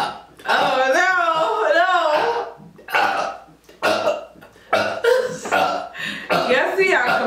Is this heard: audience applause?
no